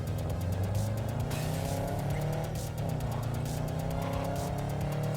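In the video game Road to Liberty, a car oversteers with its tires squealing under a loud, steady engine roar, the skid sustained across the whole stretch.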